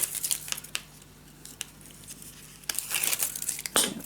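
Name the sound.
peeling off adhesive backing in paper crafting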